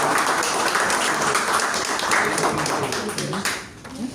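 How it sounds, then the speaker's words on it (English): Members of a Toastmasters club meeting clap for a speaker, a dense, loud patter of hands that holds steady, with some voices mixed in, before thinning out near the end. "Please give a round of applause to"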